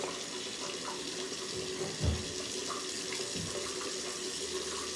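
Water runs steadily from a tap while hands are washed at a sink, a constant hiss with a brief splash partway through.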